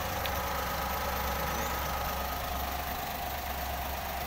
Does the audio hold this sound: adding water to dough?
no